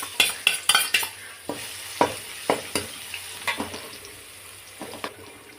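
Garlic fries in hot coconut oil in a pan, with a soft, steady sizzle broken by repeated sharp scraping and tapping of a utensil stirring it, close by and without talk.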